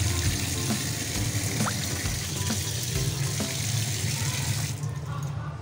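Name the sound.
washing fish under running water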